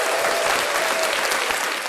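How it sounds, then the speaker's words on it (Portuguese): An audience gives a dense, steady round of applause to welcome a guest at a live Café com Prosa talk show, with many hands clapping together at an even level throughout. "João, uma salva de palmas."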